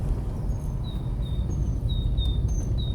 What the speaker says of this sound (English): Oh, I can hear a bird there.